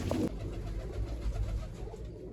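Pigeons coo softly at close range in a loft, low murmuring calls with a brief louder burst at the start, as birds are handled and let go one by one.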